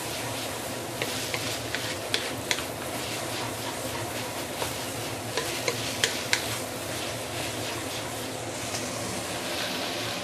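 Maggi noodles and sambal are stir-fried in a hot pan, with a steady loud sizzle throughout and scattered sharp clicks and scrapes of the utensil against the pan.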